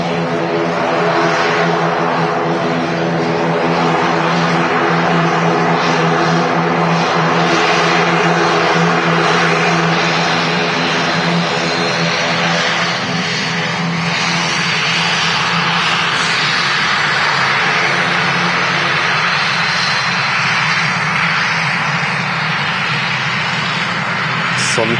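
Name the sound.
EasyJet propeller aircraft taking off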